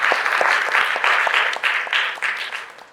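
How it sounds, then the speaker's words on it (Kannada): Big round of applause from an audience at an event honouring a retired All India Radio assistant director: loud, dense clapping from many hands throughout, with a few claps standing out near the front. "ಒಂದು ದೊಡ್ಡ ಚಪ್ಪಾಳೆ."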